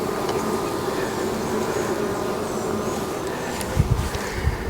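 Honey bees buzz around an open beehive in a constant dense hum, close and steady, with a few low bumps and rustles near the end.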